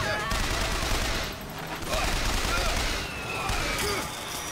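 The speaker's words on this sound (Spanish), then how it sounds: "¡Fuegos artificiales!" Fireworks go off in the video game Bioshock Infinite, a loud crackling barrage of rapid pops arriving in surging waves, close and dense like a volley of gunfire.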